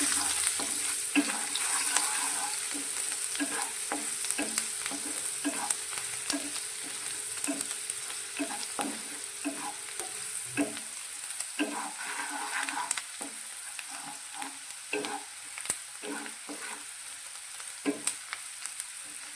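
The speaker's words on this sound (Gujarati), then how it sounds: "ડુંગળીને આપણે થોડી સાંતળી લઈશું" Finely chopped onion sautéing in hot oil in a pan, a continuous close sizzle punctuated by frequent scraping and tapping strokes of a stirring spoon.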